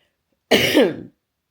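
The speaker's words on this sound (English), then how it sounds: "Now I'm going to be coughing because that's what you do when you start to recover from your cold cough" A single harsh cough burst, close and loud, standing alone in silence.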